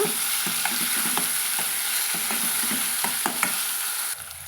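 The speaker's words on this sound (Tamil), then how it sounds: "சேர்த்து நம்ம வதக்கிட்டுக்கலாங்க" Tomato and onion sautéing in a pan for a white peas salna, with a steady sizzle and frying hiss broken by repeated scrapes and stirs of a utensil close by, no voices.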